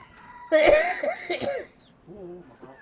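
A single harsh, rasping cough from a frail elderly person bursts out close by, followed by a weaker strained throat sound.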